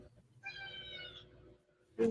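A cat gives a single clear, drawn-out meow, near and moderately loud, with a brief voice at the very end.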